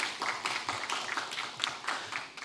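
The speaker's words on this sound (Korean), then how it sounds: "여러분 다시 한번 박수 부탁드립니다" Audience applause for a speaker at a Korean computer history conference session, a dense patter of many hands clapping at close range, steady for a couple of seconds with no talk.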